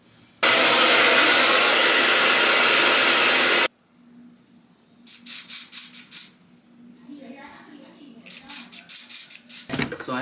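A hiss of aerosol spray applied while installing a wig, one steady burst of about three seconds close to the mic, followed by someone speaking.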